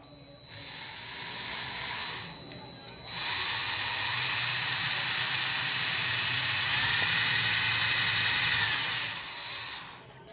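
A power drill with a small bit boring through thin copper and aluminum metal for a riveted pendant or keychain, giving a steady high-pitched whir that runs for several seconds with a brief pause near the start.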